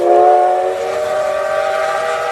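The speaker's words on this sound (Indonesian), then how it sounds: "muncullah kereta api berbahan bakar uap" A steam train's whistle sounds loud and sustained, a steady harmonic tone that fades slightly after the first moment, with no voices.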